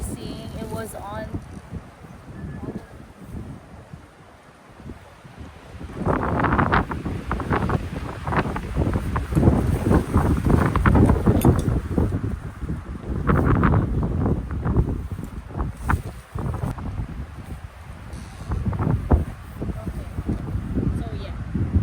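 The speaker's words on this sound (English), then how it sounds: "It's really windy." Strong wind gusts buffet the microphone at a backcountry lake campsite on Provoking Lake in Algonquin Park, a steady broadband roar that swells louder and rougher through the middle and keeps surging to the end.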